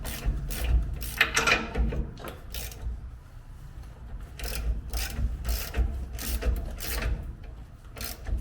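Ratchet cranking on the leaf spring bolts of a Chevrolet Silverado, a series of short clicking bursts in quick runs with brief pauses between, close and fairly loud, no talk.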